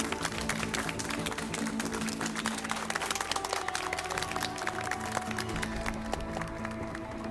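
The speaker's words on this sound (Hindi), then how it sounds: "कृपया करके उनके स्वागत में तालियां बजाइए" Sustained loud applause from a crowd at a public gathering, dense clapping filling the whole clip and thinning slightly toward the end.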